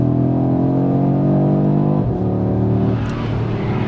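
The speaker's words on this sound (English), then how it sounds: "There's something really nice about the 5-cylinder engine sound." An Audi RS 3's five-cylinder engine holds a loud, steady, rich droning note, briefly dips, then settles back to a slightly lower sustained hum, heard close and alone without any talking.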